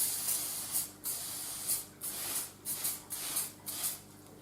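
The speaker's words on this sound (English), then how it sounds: "So I've just got some olive oil spray. I'm just going to lightly spray the base" Olive oil cooking spray misted onto the base of a cake pan: five short, close hissing bursts in a steady rhythm, each about half a second long, with no talking.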